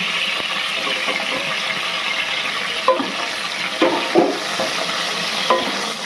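Capsicum sizzles in hot oil with garam masala in a pan, a steady close frying hiss broken by a few sharp stirring scrapes and clinks, with no talking.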